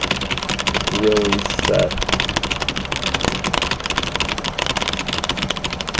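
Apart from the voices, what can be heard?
fast burst typing on a computer keyboard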